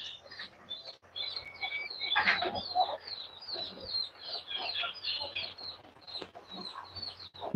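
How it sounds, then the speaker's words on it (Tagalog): Native chickens crossbred from Rhode Island Red, along with a local hulo breed, cluck and call on a farm, a busy overlapping chorus of short, fairly close calls that continues throughout with no talk. "Ito po yung ating mga native chicken na crossbreed po ng Rhode Island Red at saka yung manok na hulo"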